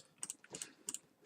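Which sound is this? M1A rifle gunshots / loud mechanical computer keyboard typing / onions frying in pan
loud mechanical computer keyboard typing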